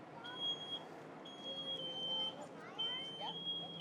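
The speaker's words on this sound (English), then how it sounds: "Smoke alarm is going off on that one." A high-pitched smoke alarm sounds in repeated long tones during a fire safety burn demonstration, fairly faint and distant, while people talk quietly in the background.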